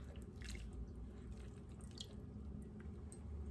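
Water trickles and drips steadily close by as soaked sea moss is drained, a soft continuous flow with occasional splashy drops throughout.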